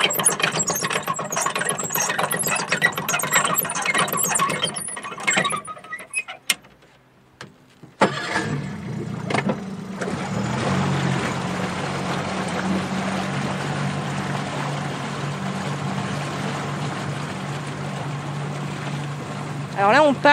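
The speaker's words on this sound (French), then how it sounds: "Allez, je mets le moteur." A sailboat's engine on the Loire at the port of Chaumont-sur-Loire cranks and catches after a brief pause, then settles into a steady close low drone that runs on evenly to the end.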